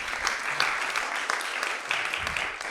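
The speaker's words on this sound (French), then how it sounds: "je vous propose de commencer par les applaudir, Pauline et Valérie" Audience applauding two panelists at a conference: dense, continuous clapping from many hands at moderate loudness, steady for the whole stretch.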